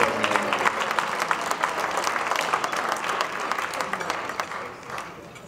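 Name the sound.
volleyball team crowd applauding and cheering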